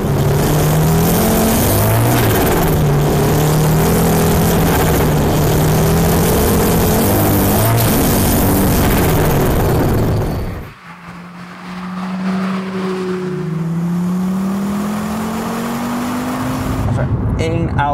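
An Audi Quattro rally car engine drives loud and close, a constant roar with shifting tones, then drops abruptly after about ten seconds to a quieter interior drone with rising engine pitch.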